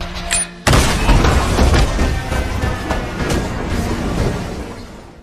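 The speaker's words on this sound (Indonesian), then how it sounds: "menanam bom hingga terjadilah ledakan" A bomb explodes in a film scene: a sudden loud boom erupts after a brief quiet moment, followed by several seconds of dense rumbling debris and crackle that slowly fades.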